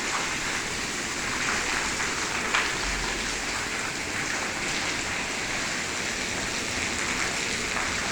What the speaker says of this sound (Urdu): دیکھیں کتنی تیز بارش ہو رہی ہے۔